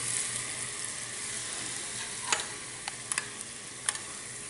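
Green chillies hit hot oil for a tempering with the gas flame switched off, giving a steady soft sizzle with a few sharp crackles and pops near the mic.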